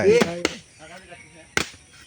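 Two sharp blade strikes from a dao chopping into palm fruit, close and separated by a pause, with a voice speaking briefly at the start.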